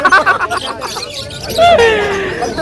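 Lovebirds for sale at a market chirp and tweet in sharp, high calls, close and busy, while people chatter around them.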